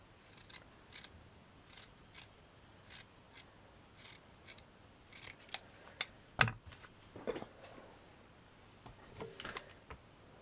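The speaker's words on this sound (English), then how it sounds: "Cut a circle." Scissors snip a circle out of a piece of felt backing for a taffeta flower, with soft, quiet, irregular cuts spread through the clip and a few sharper closes near the middle.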